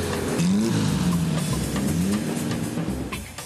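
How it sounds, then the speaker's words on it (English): A 1909 Blitz-Benz race car with a 200-horsepower engine drives past at a historic motorsport outing, its engine note rising and falling loudly and continuously over a couple of seconds, close by, with no voices. "This Blitz-Benz race car was built in 1909, but already had 200 horsepower"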